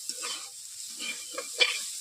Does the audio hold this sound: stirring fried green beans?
yes